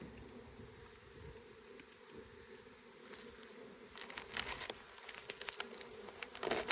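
A soft, continuous buzzing of many honeybees at close range inside a wooden hive, with faint tapping and scraping that grows a little busier toward the end.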